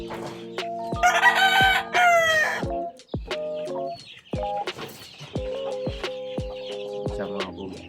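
Chickens in a small backyard coop clamor at feeding time with loud repeated crowing and busy clucking, overlapping calls near and far, punctuated by sharp pecks or taps.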